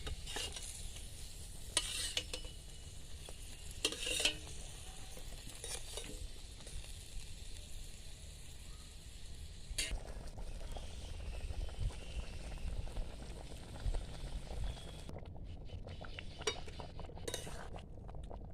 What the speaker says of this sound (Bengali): ঝোল দেখুন ফুটে গেছে, এবার ভেজে রাখা মাছ দিয়ে দেব।